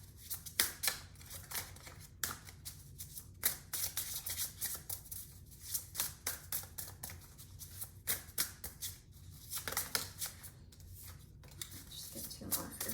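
A deck of tarot cards is shuffled by hand at close range, giving repeated quiet flicking and riffling bursts in an uneven rhythm.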